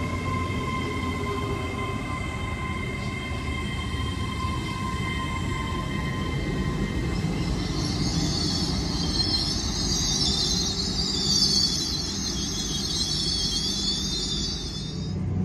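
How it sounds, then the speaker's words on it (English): Great Western Railway Class 800 trains at Bristol Parkway station, a steady loud rumble of rolling stock with wheel squeal and hiss rising toward the end, continuous and close with no talking. "there's 800-031 and 800-018 on the Great Western Railway service to Carmarthen, the 1504 from London Paddington"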